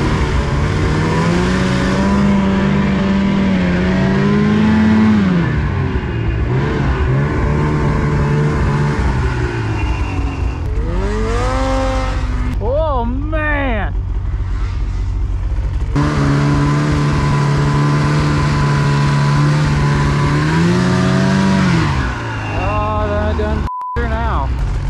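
A snowmobile engine revs hard through powder snow on a mountain, loud and close, surging and dropping in pitch repeatedly as the throttle works, with a voice talking over it at times.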